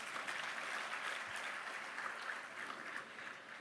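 An audience at an indoor Hindi spiritual satsang gathering applauds for a young girl, a soft, distant, continuous patter of many hands clapping, fairly faint, with no talk over it.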